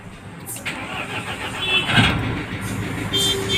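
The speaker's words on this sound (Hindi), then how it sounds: "ये गाड़ी को हमने कर दिया स्टार्ट" A Mahindra Scorpio engine cranks on its self-starter after a full overhaul and catches, rising into a steady running rumble up close, with a brief voice partly underneath.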